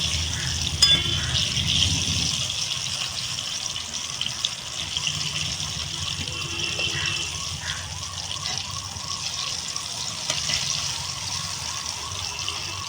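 Cauliflower and pumpkin pakoras frying in hot oil, a continuous bubbling sizzle with small popping crackles, close and steady throughout.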